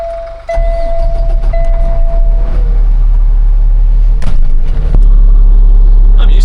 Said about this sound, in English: Maybe he'll let me drive his dump truck around.